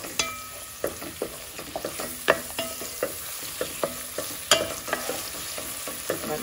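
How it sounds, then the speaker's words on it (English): Garlic sautés in a pan for kale and white bean soup, a steady close sizzle punctuated by irregular scraping clicks of a utensil stirring, with no voices. "now I can add the garlic and mix it a little. And I saute it a little bit longer."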